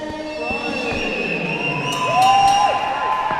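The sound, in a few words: crowd applauding and cheering for fighters at MMA event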